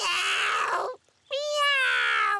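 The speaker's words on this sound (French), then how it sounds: "Oh, un chaton, le pauvre." A cartoon kitten gives two loud, close, drawn-out meows separated by a short pause, the second one higher and more strained.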